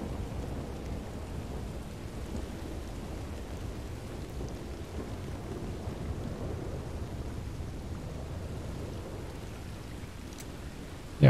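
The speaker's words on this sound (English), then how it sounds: "It's very heavy rain right in front of us." Heavy rain pours steadily in the open-world western video game Red Dead Redemption 2, a dense, continuous hiss with a low rumbling undertone, unbroken for the whole stretch and heard alone.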